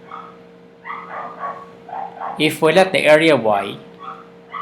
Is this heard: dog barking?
yes